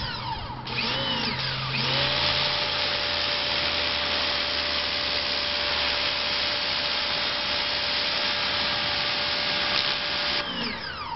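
A Ryobi 1600 psi pressure washer sprays dirty concrete, a loud, continuous high hiss and motor whine that starts abruptly, holds steady for about nine seconds, then cuts off.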